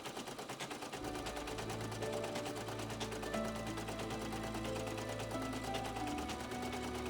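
Sewing machine embroidering the bottom section of a Rohan banner, its needle hammering in a fast steady rhythm close and loud, with the motor's whir continuous under the stitching and no talk.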